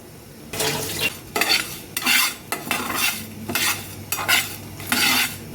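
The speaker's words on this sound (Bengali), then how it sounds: "এবার এই মিশ্রণটাকে আমরা ভালোভাবে ভেজে নেব।" Spice mixture with coriander dry-frying in a pan for mutton, stirred in steady rhythmic strokes: about seven scraping sweeps with a soft sizzle between them, close and clear, with no voices.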